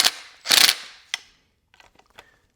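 A ratchet clicks in short bursts while tightening a bolt on a plastic EVAP part of a Volkswagen MK6, a couple of loud quick ratcheting runs followed by faint small clicks, close and otherwise quiet.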